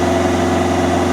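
A Vauxhall Zafira B 1.7 CDTi diesel with a loss of power, black smoke and no boost runs steadily, giving a loud, constant engine hum and drone with no change across the short stretch.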